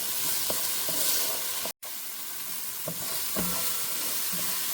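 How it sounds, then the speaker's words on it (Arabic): Chopped onions, with turnip going in, fry in a pan with a steady close sizzle, broken by the scraping clinks of a spoon stirring them; a brief dropout interrupts the sound, and no one speaks. "ونحمس الشلغم ويا البصل"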